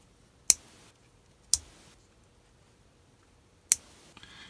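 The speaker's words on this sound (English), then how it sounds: "I can turn the lights on by clicking this switch there." A switch on a model car's lighting system is flicked, giving three sharp isolated clicks spread across near-silence, close and crisp, with a few faint smaller ticks at the end.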